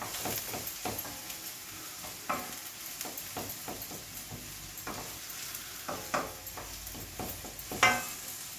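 Bell peppers frying in a pan with a steady sizzle, punctuated by scrapes and knocks of stirring at an irregular pace, close and moderately loud, with no talk.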